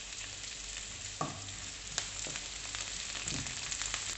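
Curry leaves and green chillies fry in an oil-filled pan while a fish molly is being cooked, giving a steady sizzle broken by a few sharp crackles and spatters. No one speaks.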